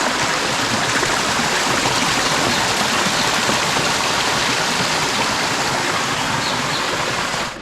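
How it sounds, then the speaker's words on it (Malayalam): A small river in the forest on the Agasthyarkoodam trek rushes loudly and continuously nearby, a dense, even wash of flowing water with no voices. "ഞാൻ ഇവിടുത്തെ ഒരു പുഴയുടെ ശബ്ദം ഒന്ന് കേൾപ്പിച്ചു തരാവേ"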